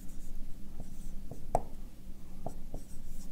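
A board is erased and written on during a physics lecture on projectile motion, giving soft, sparse taps and scrapes with a few sharper knocks at a moderate distance and no talking.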